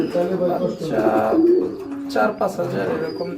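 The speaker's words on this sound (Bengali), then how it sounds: "আর এটা হচ্ছে মাদি কবুতর" Bombay pigeons, including a female, coo close by in soft, repeated throaty bursts while people talk over them.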